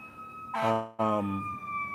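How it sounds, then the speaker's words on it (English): Emergency vehicle sirens on a New York City street blare in two loud, harmonically rich bursts with a brief gap between, while a steady tone holds underneath. "You hear the sirens, so please excuse that and pass in a second."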